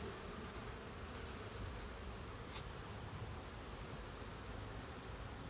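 Honey bees buzz in a dense, steady hum as they are tapped off a hive frame during honey harvesting, a continuous swarm drone with no voices.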